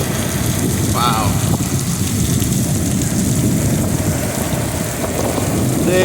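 Heavy rain and wind storm on the Lake Erie shore at Conneaut, Ohio, a loud steady roar of downpour and gusts filling the whole stretch without letup.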